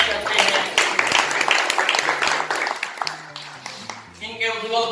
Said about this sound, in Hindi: तो हम जोरदार तालियों के साथ इनका स्वागत करते हैं।